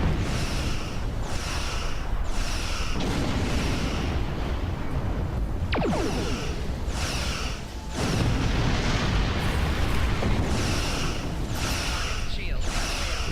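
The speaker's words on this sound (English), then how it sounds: "We'll get in there with another quick little torpedo." Torpedo fire and explosions in the space combat video game Star Trek Online, with repeated booming blasts and whooshes in a dense, continuous rhythm.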